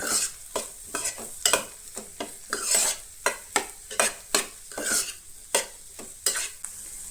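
Masala pav mixture with garam masala and kasuri methi stirred in a pan, rapid repeated scraping and clinking strokes of the spoon over a steady sizzle, close and loud.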